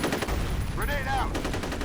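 Rapid gunfire in a FEAR multiplayer match on the Refinery map, a loud dense crackle of shots running throughout, with a brief tonal game sound sweeping through the middle.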